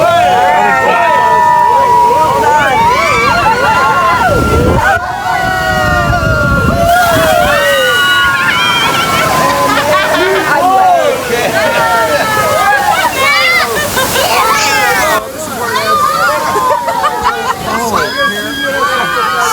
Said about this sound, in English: Very choppy water.